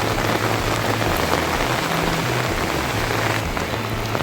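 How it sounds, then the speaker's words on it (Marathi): Heavy rain pours steadily onto paddy fields in Konkan, a dense continuous hiss with scattered drop patters and a low rumble beneath, no voices. "पाऊस पण छान लागतो पावसानं तर खूपच जोर घेतला आहे"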